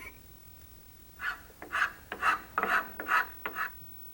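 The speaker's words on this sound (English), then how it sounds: "Use a file to smooth the cut surfaces and edges." A hand file rasping along the cut surfaces and edges of a wooden handle grip for a manual rotary weeder, about eight short strokes in a steady back-and-forth rhythm, close and fairly loud, with no voices.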